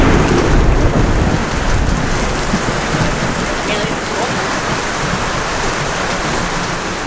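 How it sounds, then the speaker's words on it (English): Heavy rain pours down outdoors in a dense, steady hiss that holds loud and close for the whole stretch, with no breaks. "and then it started raining."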